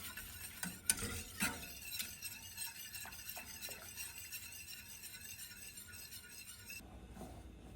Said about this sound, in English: I'd use a whisk just to get some of the eggs beaten in